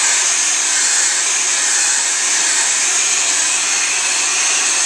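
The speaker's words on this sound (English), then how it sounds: "take the hair dryer," A hair dryer blows steadily to warm a shoe upper for stretching, a loud, even, close airy whir that runs alone from start to finish.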